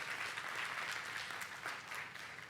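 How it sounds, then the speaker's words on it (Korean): A church congregation gives a round of applause during a Sunday service, a soft, distant, even rush of many hands clapping that holds steady throughout. "우리 하나님께 영광의 박수 한번 올려드리겠습니다."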